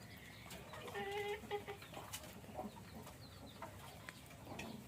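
Hens and chicks cluck softly while being fed on a small farm, with a few short calls and chirps over low background rustle; no one speaks.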